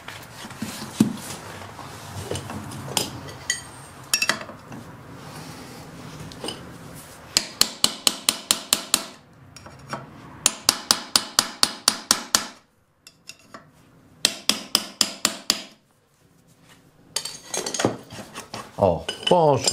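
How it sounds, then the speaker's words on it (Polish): Rapid bursts of ringing hammer blows on metal, each a quick series of sharp clanks, separated by brief pauses and scraping, as a new FMF motorcycle exhaust is hammered into place. "czy trzeba będzie użyć młota?"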